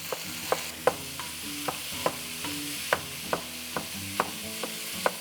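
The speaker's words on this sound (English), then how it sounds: "See, you got a good sizzle going on." Lean ground meat browns in a hot pan with a steady, soft sizzle, broken by a regular rhythm of sharp scraping clicks as a utensil stirs it, close by with no talking.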